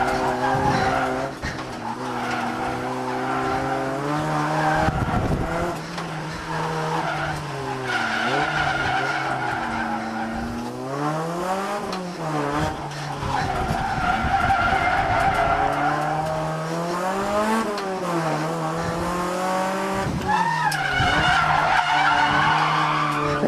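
A front-wheel drive Honda Prelude slides sideways at speed along a narrow mountain road, its tires squealing and skidding in long wavering wails over a loud, steady engine drone throughout.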